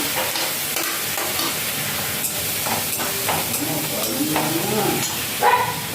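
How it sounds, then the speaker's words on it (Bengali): Onions and garlic fry in a pan for a fish dish, with a steady sizzle and occasional stirring scrapes throughout, close and moderately loud. "পেঁয়াজটাকে আগে ভালো করে ভেজে নিতে হবে"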